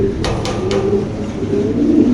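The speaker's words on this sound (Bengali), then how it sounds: "পুরো বাম্পার কোয়ালিটি সাইজের একজোড়া কবুতর" A pair of large fancy pigeons coo in low, rolling murmurs, close and continuous amid a noisy pigeon-selling setting with a few sharp clicks near the start.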